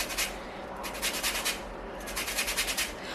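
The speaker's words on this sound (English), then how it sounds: "So zest it." Lemon zest being rubbed off two lemons on a grater for a lemon loaf, a soft rhythmic scraping in short repeated bursts, close and fairly quiet, with no talk.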